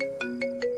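A phone ringtone plays close by, a steady electronic tone with three brief chirping pulses repeating in a quick rhythm.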